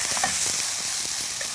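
Lightly marinated fresh meat tossed quickly in a hot pan, giving a dense, even sizzle with soft stirring scrapes, brief and close, no voices.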